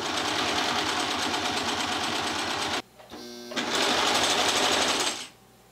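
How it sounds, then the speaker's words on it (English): A serger stitches along folded bias tape for face mask ties, a loud close rapid mechanical whirr that runs steadily, pauses briefly with a faint hum, then resumes before stopping. "you can just fold it in half and serge on the outside."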